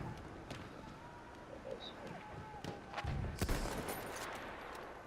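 Springfield rifle shots from a video game, several sharp reports spread across the stretch with game ambience and distant gunfire underneath, one louder burst near the middle.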